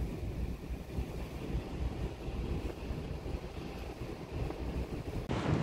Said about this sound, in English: Big waves, a lot of wind, a lot of snow.